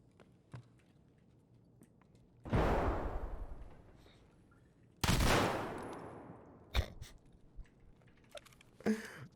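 Bursts of submachine gun fire from a UMP45 loaded with RIP ammo in Escape From Tarkov: two long, loud rapid bursts followed by a few sharper single shots and short cracks, with quieter gaps between.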